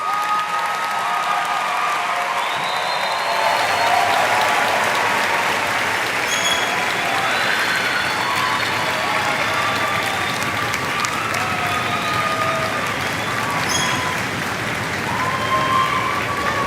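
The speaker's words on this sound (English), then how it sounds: "may we have an applause for our graduates." An audience at a spring 2022 university transfer-degree commencement ceremony applauds graduates in a sustained, dense wash of clapping that stays steady throughout with a few faint cheers.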